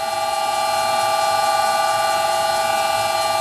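An old manual lathe taking a fine cut of about 0.2 mm. A steady, even machine whine holds at one pitch throughout, close and continuous, with no voices.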